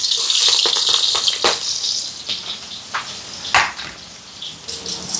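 Steady crackling sizzle of green chilies, onions and curry leaves frying in hot oil, with a few sharper pops and bursts over a continuous hiss, close by.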